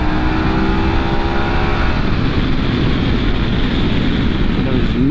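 A Harley-Davidson Pan America Special motorcycle engine hums steadily in top gear around 3,000 rpm, its smooth drone mixed with heavy wind rush as it rides along, loud and continuous with no pause.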